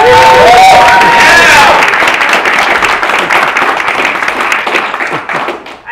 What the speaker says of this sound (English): let's have a rousing round of